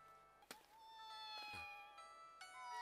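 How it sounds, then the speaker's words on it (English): Cat meows from an anime episode, a short high yowl at about half a second and a longer drawn-out meow midway, set over faint tonal background music. "Oh, little cat."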